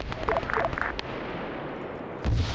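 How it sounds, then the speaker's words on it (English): Gunfire from a military video game: a few sharp distant shots early on, then a steady rumbling wash of battle noise ending in a heavier low thump. "why are there gunshots?"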